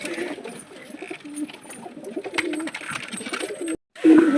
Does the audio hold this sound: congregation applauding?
no